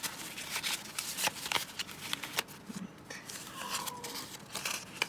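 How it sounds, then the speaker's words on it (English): Cards being shuffled: rapid crisp riffles and snaps in short bursts, close up and fairly loud, with no talking. "I'm gonna give them a quick shuffle."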